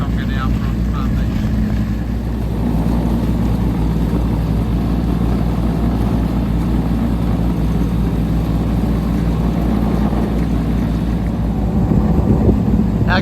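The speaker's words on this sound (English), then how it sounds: "That's it, making its way back to Patonga now from Palm Beach." A ferry from Palm Beach to Patonga passes on the water near Brooklyn, heard as a steady low engine drone mixed with wind and water noise from an own boat, continuous throughout.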